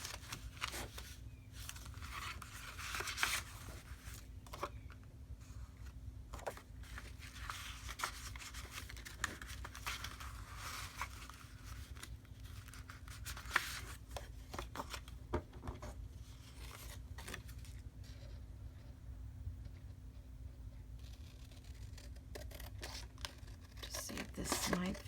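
Paper insert being cut down to size for a handmade journal: soft, close snipping, crinkling and rustling of paper in uneven bursts, with a person speaking quietly at times.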